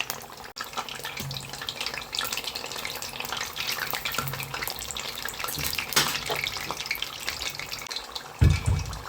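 Breaded chicken and cheese parcels, dipped in egg and crumbs, sizzle steadily in hot oil with a continuous, even crackle from start to finish, and a brief heavier bump near the end.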